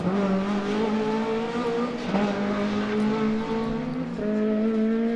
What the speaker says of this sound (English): Kevin Williams and Andrew Gorge pushing hard right to the finish to ensure they take that 5th spot